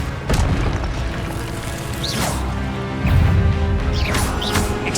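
Spell impacts crack out in the Hogwarts Legacy video game, Expelliarmus among them, as booming thuds and crashes over continuous game noise, with sharper hits near the start and a heavier burst about two-thirds through.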